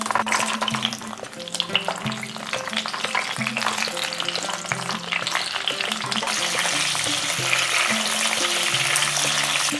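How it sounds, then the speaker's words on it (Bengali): Pointed gourd (potol) pieces fry in hot olive oil mixed with ghee, making a dense, continuous sizzle with stirring clatter throughout and no voices. "তেল বেশ ভালো করে গরম হয়ে গিয়েছে। এরপর পটলগুলো দিয়ে দিচ্ছি।"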